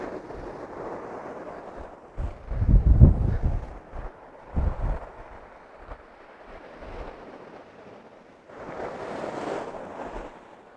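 Waves wash onto a harbour shore in slow, rumbling surges, with a heavier break early on and another swell near the end, while wind buffets the microphone throughout.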